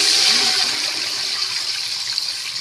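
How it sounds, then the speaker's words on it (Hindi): Sugar syrup hits hot oil in a pan while making jaggery rice, a loud, steady hissing sizzle that slowly eases off, with no voices. "ये शीरा थोड़ा पीछे होके इसमें ऐड करें"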